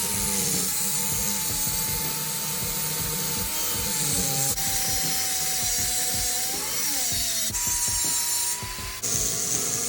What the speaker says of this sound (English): I think I'm just gonna cut them off and see how far I can go and still hold the Dizzy in place